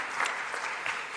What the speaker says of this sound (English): Applause, please, for Dr. Frederick.